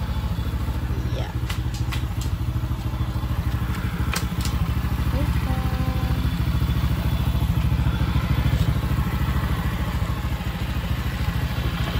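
A Honda XRM 110 motorcycle engine idling close by, a loud steady putter with rhythmic low pulses and occasional clatter, with someone talking over it.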